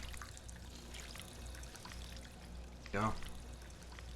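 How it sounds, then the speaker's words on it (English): Water splashes briefly from a drinking fountain in the modded Fallout 4 game, a short pouring burst heard under steady background noise and near a voice. "Never say no to a water fountain."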